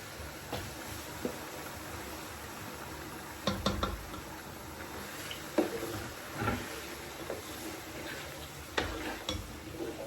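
Tomato going into onions frying in a pot for stew, with a low sizzle broken by intermittent knocks and scrapes of a spoon against the pot, close and fairly quiet.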